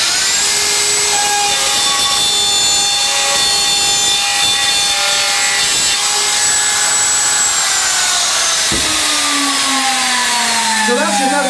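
A handheld router with a spiral upcut bit freeform shapes a wooden board, its high, steady motor whine and cutting hiss loud and close, dipping into a lower grinding note near the end as the bit bites the wood.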